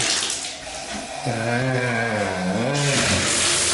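A bathroom shower runs at strong pressure and drains, giving a close, steady watery hiss with a wavering whine rising and falling through the middle, no voices.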